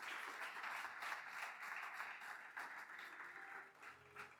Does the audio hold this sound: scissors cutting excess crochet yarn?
no